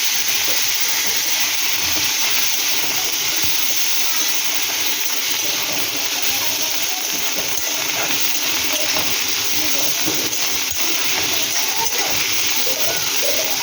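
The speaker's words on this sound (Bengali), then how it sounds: "এর মধ্যে আমি লটিয়াগুলো দিয়ে দেবো। এর মধ্যে ভালো করে ভাজবো।" Dried lotia fish frying in a pan, a loud, unbroken hiss of hot oil that holds steady from start to finish.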